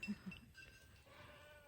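A goat on a farm gives a couple of short, strained bleats near the start, then faint ambient sound continues at a low level.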